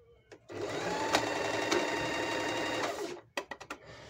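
A Panavox 11c sewing machine runs a straight stitch in a steady, fast whirring burst of about two and a half seconds, followed by a few short clunks as it stops, with a faint voice in the background.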